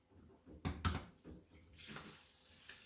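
Water from a saltwater aquarium drains through an opened tap during a water change. A couple of knocks and splashes come first, then a steady rushing flow builds and continues, fairly faint and close.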